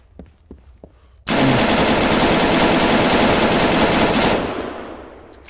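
Steyr AUG rifle from a modded Arma 3 game fires in a loud, sustained automatic burst of about three seconds, with a few faint clicks before it and a fading echo after.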